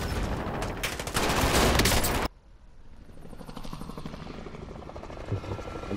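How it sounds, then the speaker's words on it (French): Video game helicopter with a loud, dense rotor thrum and rapid gunfire that cuts off abruptly, followed by a quieter steady rotor chop continuing in the background. "Je vais essayer de choper l'hélico moi."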